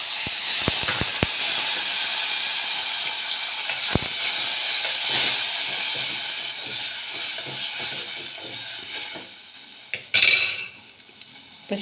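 Dried chillies, curry leaves and asafoetida hiss and sizzle in hot oil for a Kathiyawadi khichdi osaman tempering. A few sharp spoon clinks come early and a louder sizzling burst near the end, with no talk.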